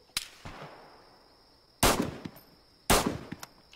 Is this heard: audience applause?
no